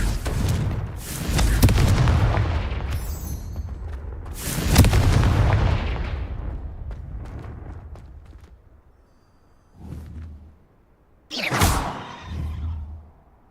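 Repeated Confringo spell blasts in the video game Hogwarts Legacy: heavy booming explosions with whooshing tails, loud and close, two big detonations early followed by smaller bursts later, with no speech.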